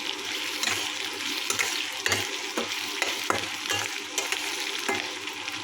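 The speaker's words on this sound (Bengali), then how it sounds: "এখানে গাজর দিলাম, গাজরটা একটু ভাজা ভাজা করে তারপরে ক্যাপসিকাম" Carrots frying in hot oil with whole spices for vegetable fried rice, a steady close sizzle with repeated scraping stirs of a spatula against the pan, no talking.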